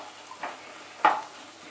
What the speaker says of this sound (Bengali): এর মধ্যে সবার প্রথমে ফোড়ন দিচ্ছি হাফ টিস্পুন গোটা জিরে, 2টো শুকনো লঙ্কা